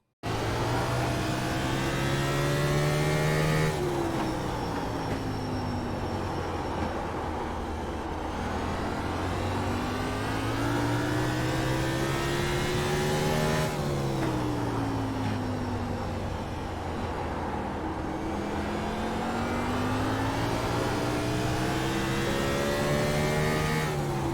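A race car lapping Martinsville in the iRacing video game, its engine revving up and down in repeated cycles of acceleration and braking, loud and continuous with no talking.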